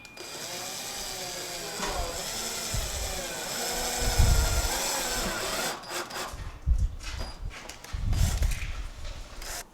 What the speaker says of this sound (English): I'm just going to go ahead and do my first drill and use these self-tapping screws to get it held in place.